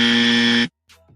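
A loud, harsh game-show style buzzer blares steadily for over half a second, then cuts off abruptly, followed by a faint trailing noise.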